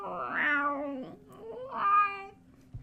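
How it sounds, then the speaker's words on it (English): A cat meows twice in long, drawn-out cries, close and fairly loud, with a short pause between them and no talking. "you hear more cat noises"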